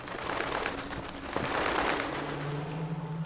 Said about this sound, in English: Walk around the crazy house. Full of birds.